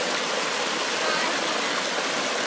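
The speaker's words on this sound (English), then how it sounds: "You guys see at this point how the water is flowing down over this mountain of calcium basically." Water pours down white calcium travertine terraces at Pamukkale, a dense, steady rushing wash close to the microphone with no break.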